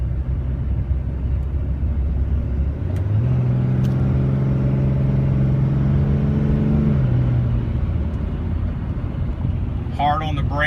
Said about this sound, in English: so I'll go ahead and do some hard accelerations and all that good stuff.